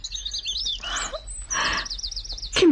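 Short, bright, high chirps and twittering of a green bird sound close and clear, repeating in quick trills between brief pauses, with no talking.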